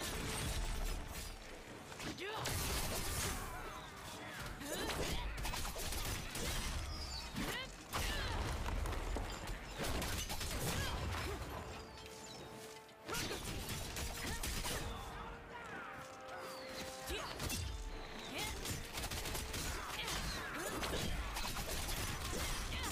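Enemy gunfire crackles through a chaotic castle-siege battle in the Lost Ark video game, dense sharp bursts and impacts layered continuously with combat effects, a voice talking over the action.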